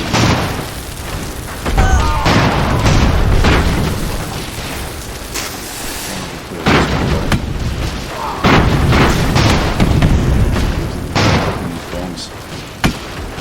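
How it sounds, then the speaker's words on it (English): Bombs explode during an airship battle in the strategy game Airships: Conquer the Skies. Loud, deep booms and bursts come again and again over a constant rumbling mix. "Bombs."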